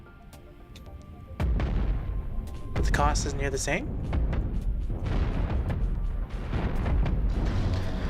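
Spaceship cannons firing in the space combat game Cosmoteer, a dense run of booming blasts and bursts that continues for several seconds, with a person talking over the gunfire.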